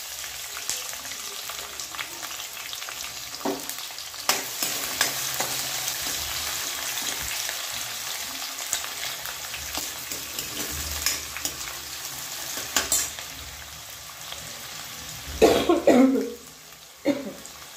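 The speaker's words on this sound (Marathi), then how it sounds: "बारीक चिरलेला कांदा घालायचा आणि हा छान असा मस्त लाल होईपर्यंत आपल्याला फ्राय करून घ्यायचा आहे" Finely chopped onion frying in a pan for chana masala, a soft continuous sizzle with occasional stirring scrapes, and a few coughs or throat-clearing noises near the end.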